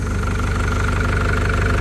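An Isuzu diesel engine on a used Kobelco excavator idles loudly and steadily up close, with a rhythmic low knocking throb and no voices.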